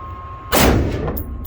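A single loud gunshot cracks at an outdoor shooting range, fired at a 50 target, with a sharp attack and a brief ringing decay trailing off afterward; no talking.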